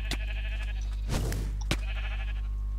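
Sheep bleating in the Minecraft video game, a couple of short synthetic bleats over steady low game background hum, with no talking.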